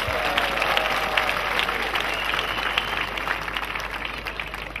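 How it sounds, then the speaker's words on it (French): Crowd at an outdoor Christian crusade in Mbouda applauding steadily, a dense continuous wash of clapping from many people that holds at an even level throughout. "Applaudissez pour Jésus-Christ."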